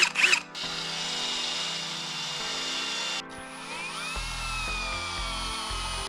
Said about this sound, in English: I'm going to drill a couple holes and just put some of these batten screws in